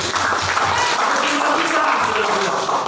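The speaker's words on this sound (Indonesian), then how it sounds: "Tepuk tangan buat Tuhan kita Yesus." Dense, loud congregation applause during a church service sermon, a continuous wash of clapping with a faint voice carrying over it.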